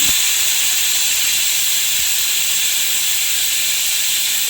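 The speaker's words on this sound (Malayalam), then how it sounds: "ഒരു കുക്കറിൽ ഒരു മൂന്നോ നാലോ വിസിൽ വരുന്നത് വരെ നമുക്കിത് കുക്ക് ചെയ്തെടുക്കാവുന്നതാണ്" A pressure cooker boiling potatoes lets off a loud, continuous hissing blast of steam that holds steady and close for the whole stretch.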